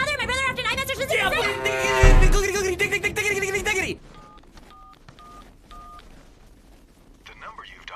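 A cartoon telephone number is punched in as a quick series of clear touch-tone beeps, a few seconds of spaced tones following a loud burst of sound, with no speech during the dialing.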